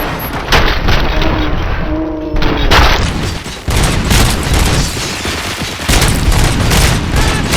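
Heavy gunfire and booming impacts pound through a combat scene in RoboCop: Rogue City, loud and dense, with bursts of shots and low thuds overlapping almost continuously.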